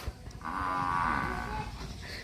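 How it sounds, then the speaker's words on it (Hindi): A buffalo in a village enclosure lets out one long, loud, drawn-out moo close by, rising and then fading, with a short thump just before it. "भैंस भी बुला रही है।"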